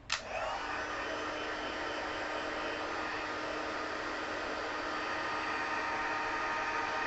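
A hair dryer blows over a freshly watercolored paper panel for a stamped sunflower card. It switches on with a click, then gives a loud, steady, even whoosh that runs unbroken for about seven seconds, with no talking.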